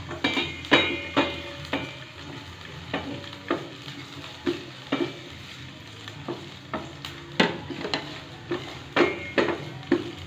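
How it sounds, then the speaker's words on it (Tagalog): Garlic sautéing in a pan for Filipino chicken afritada, with a steady sizzle underneath and about a dozen sharp clinks of a spatula or spoon against the pan, spaced in an uneven rhythm, close up and without talk. "Gisa na natin yan."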